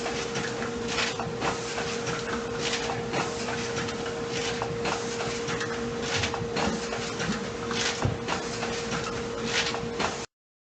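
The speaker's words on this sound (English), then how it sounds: "the video is an example of an auger filler dosing powder into bags on a rotary filling head" An auger filler on a rotary filling head doses powder into bags with a steady mechanical hum and a constant tone, overlaid by a busy run of rhythmic rattles and clicks, then cuts off abruptly.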